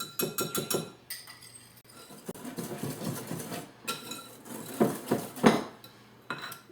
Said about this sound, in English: now we're going to whisk in 1 cup of pumpkin puree